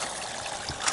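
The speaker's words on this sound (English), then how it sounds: "So water comes through there, through this hose, level, keeps the level." Water trickling through a hose onto the pads of a homemade swamp cooler, a steady hissing, splashing wash that runs without a break, close and fairly loud.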